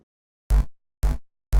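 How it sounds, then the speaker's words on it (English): Three short, booming synth bass hits with a wide, smeared wash of early reflections from a reverb, each burst cutting off abruptly with brief silence between, no voices. "early reflections are the sort of weird delay sound"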